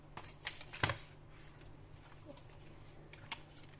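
Tarot card drawn from a deck, a few quick, faint riffles and card slaps close by with a brief sharper snap near the start.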